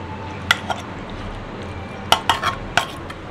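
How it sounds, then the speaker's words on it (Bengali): A ladle mashes boiled chickpeas and potatoes in a pot, giving a few sharp metallic knocks and scrapes against the pot over a low steady background hum. "একটা হাতার সাহায্যে আমি আলুগুলোকে একটু ঘেটে দিচ্ছি।"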